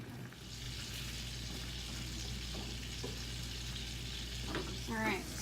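Butter sizzles and crackles steadily in a hot pan while Korean-style barbecue is being cooked, a close, constant frying hiss with a few brief clinks of utensils near the end.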